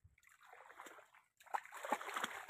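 Rainwater flowing and splashing outdoors, a faint, brief rush of running water that swells toward the end.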